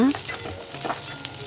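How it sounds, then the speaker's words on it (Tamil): Shallots frying in oil while being stirred produce a short burst of close sizzling with light scraping against the pan. "ஒரு கப்பு சின்ன வெங்காயம் சேர்த்து வதக்கிக்கோங்க"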